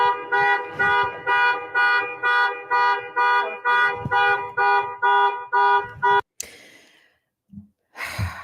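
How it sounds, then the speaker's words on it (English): A car alarm beeps in a fast, regular series of loud tones for several seconds, then stops, followed by a brief rustle and a short burst of noise. "the car beeping in the background"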